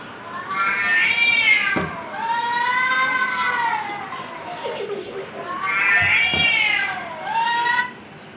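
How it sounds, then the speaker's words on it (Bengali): A cat meows loudly and close by, a few drawn-out, wavering cries with short pauses between them. "ওরা বিড়ালের শব্দ শুনে কি করতেছে দেখেন।"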